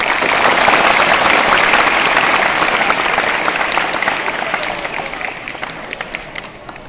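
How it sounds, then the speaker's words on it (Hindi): Loud, dense applause from a large crowd at a school event in Bandikui, Rajasthan, sustained clapping that slowly tapers off toward the end. "जोरदार तालियां बजाएंगे"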